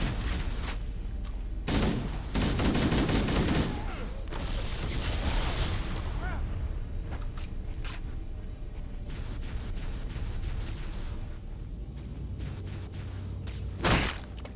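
Gunfire and explosive combat in Halo: Combat Evolved during the Truth and Reconciliation mission, with bursts of shots and blasts clustered early, then steadier mechanical clatter and a final loud burst near the end.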